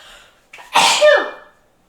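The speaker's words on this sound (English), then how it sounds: "Oh, I'm gonna sneeze." A single close sneeze set off by spices such as cloves, cardamom and ginger: a short sharp inhale then a loud explosive burst, alone in a quiet kitchen.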